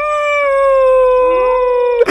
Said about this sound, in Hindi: अरे बाप रे, मोहल्ला के सारा कुत्ता आ गेलन का?